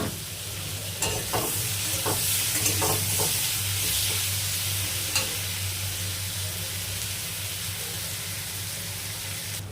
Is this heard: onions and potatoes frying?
yes